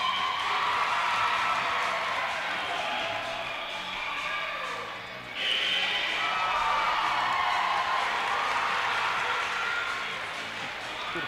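A crowd cheers and applauds throughout a cheerleading competition routine, a continuous roaring wash of clapping and shouts that dips briefly mid-way and then swells back to full strength.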